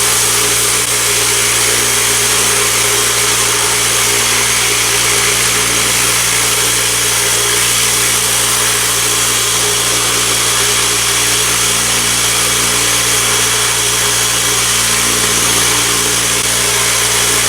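A Lot-O rock tumbler runs continuously with silicon carbide grit in its barrel, giving a loud, steady mechanical hum and churning rattle that never lets up, with no voices.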